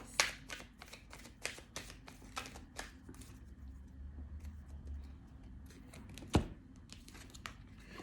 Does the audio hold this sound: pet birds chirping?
no